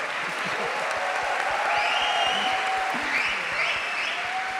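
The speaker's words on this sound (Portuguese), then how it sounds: "Uma salva de palmas para essa deusa divina." Applause from a studio audience at a Netflix event in Brazil, steady clapping under bright tonal whistles or cheers rising over it, with some low thumps; continuous and fairly loud throughout.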